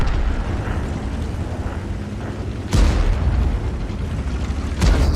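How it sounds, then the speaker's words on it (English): In a World War II tank game, a Panzerfaust strikes a Jagdtiger, and loud booming blasts land twice over a rumbling battlefield backdrop, each a sharp burst followed by a heavy low roar. "So they fired a Panzerfaust at it, and unfortunately they took out the vehicle"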